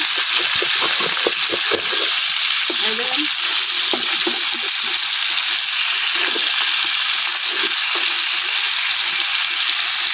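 Tilapia fish fry in hot oil in a pan, with a loud, steady sizzle throughout and occasional stirring or spatula scrapes.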